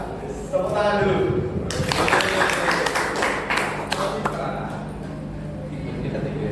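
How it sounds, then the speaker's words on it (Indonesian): Classroom or workshop audience applauding after a presentation, a dense, steady wash of many hands clapping at close range for several seconds, with a voice faintly underneath at the start. "Tepuk tangan dulu."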